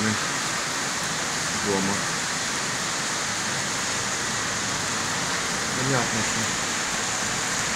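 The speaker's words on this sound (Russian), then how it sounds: "Хороший ливень." A heavy downpour floods a street in Odessa, a steady dense roar of rain and running water throughout, while someone speaks briefly over it.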